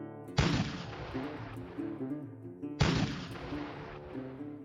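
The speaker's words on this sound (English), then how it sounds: "neared the town of Herman, where cannon fire gave them pause." Two heavy cannon blasts about two seconds apart, each a sharp boom trailing into a rumbling decay over a low background.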